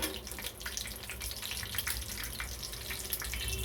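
Curry leaves crackle and spit in hot oil alongside cumin and mustard seeds for a sambar tempering, a faint, steady, fizzing sizzle throughout.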